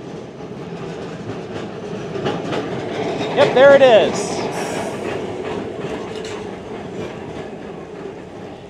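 A Ybor City streetcar trolley in Tampa rolls past on its rails, a steady rumble that swells with a brief metallic wheel squeal midway. A person speaks briefly over the passing noise.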